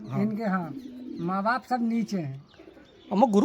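Pigeons in a loft give low cooing calls in short bursts, close by and intermittent, while someone talks over them.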